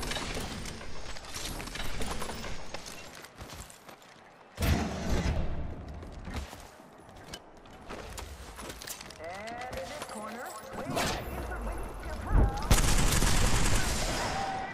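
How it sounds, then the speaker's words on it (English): Video game battle gunfire, bursts of shots and sharp impacts scattered through a busy mix of game sounds, with louder clusters near the middle and end. "Taking fire. We're in for a fight now."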